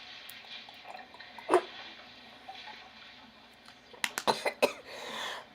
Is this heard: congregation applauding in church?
no